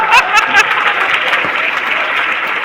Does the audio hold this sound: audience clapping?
yes